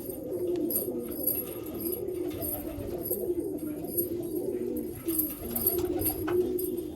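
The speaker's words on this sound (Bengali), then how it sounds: "লাল শিরা গিরিবাস পায়রা" Old-line red-streaked Giribaz pigeons coo in a steady, low, throaty murmur throughout, close by, with faint chirps and no talk.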